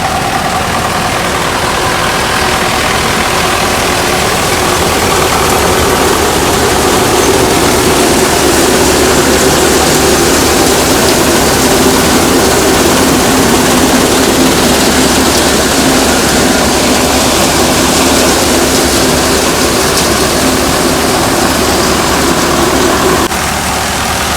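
A Sonalika tractor engine runs loud and close, a dense, unbroken low rumble that holds steady throughout with no pauses.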